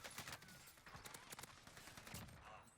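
STG assault rifle firing in the Warzone battle royale game, a rapid series of sharp shots over nearly three seconds, fairly quiet in the mix.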